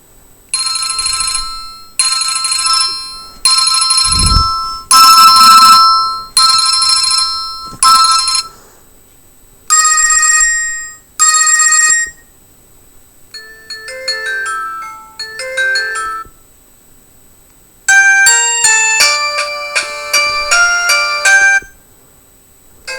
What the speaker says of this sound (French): Et les sonneries, on va modifier, faire voir différentes sonneries.